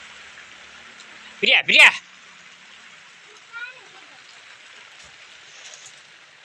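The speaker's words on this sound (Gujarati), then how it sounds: "અમારો વરસાદ ચાલુ થઈ ગયો છે" Rain falls in a constant soft hiss in the background while a person shouts a couple of brief words up close, with a short softer call later.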